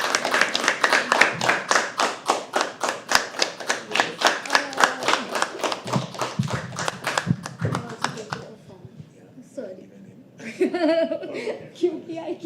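Audience at a live poetry open mic applauding steadily with dense clapping for about nine seconds, then fading, with scattered laughter and chatter rising near the end.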